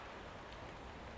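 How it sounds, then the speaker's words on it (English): Steady rain falls on a farm at midday, a soft, even hiss of drops spread across the whole short stretch, faint and continuous with no voices. "but come midday, it rained"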